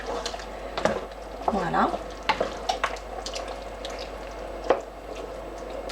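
Tomato pulp sauce for lasagne simmers in a pan, giving a soft steady bubbling sizzle with occasional spoon stirs and drips, while a person speaks briefly over it.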